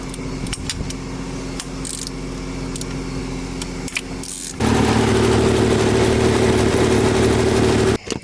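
A Nissan 300ZX engine cranks and fires, then settles into a loud, steady idle close by after a stretch of quiet shop clatter, with a brief dip near the end.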